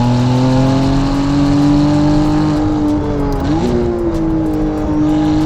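A 720 hp Novitec McLaren Artura fitted with a race exhaust accelerating hard, a loud close engine note rising steadily in pitch, briefly dipping at a gear change before climbing again.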